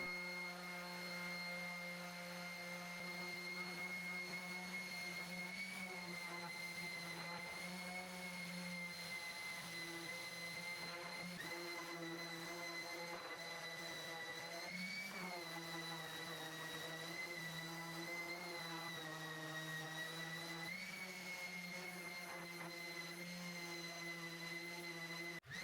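A power sander grinds steadily against a walnut and brass coat rack to remove glue residue, a loud, continuous whine with slight pitch shifts as the pressure changes.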